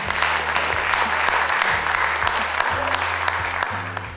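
Audience applause for a lady at an Italian theatre evening, a thick, sustained wash of clapping from a full room with a low rumbling undertone and scattered sharper claps.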